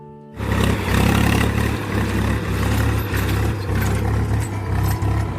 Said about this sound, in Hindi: खेतों में जुताई जारी है। ट्रैक्टर आप देख सकते हैं, ये 9 फारा चल रहा है